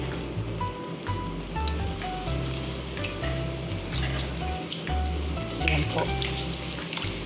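Cheese hotdog bread rolls deep-fry in hot oil, a steady, dense bubbling sizzle with crackling pops that runs throughout, heard close, while a voice speaks briefly.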